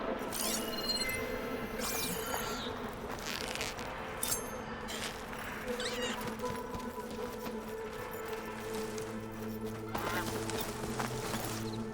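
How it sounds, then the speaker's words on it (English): Birds call in an outdoor scene of the Horizon Forbidden West video game, with repeated short quacking, honking calls over a steady ambient bed and scattered game effects. "Should find birds here."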